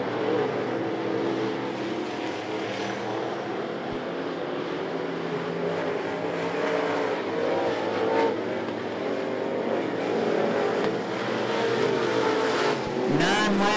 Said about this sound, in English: And Freeman in the five, racing for fifth and sixth.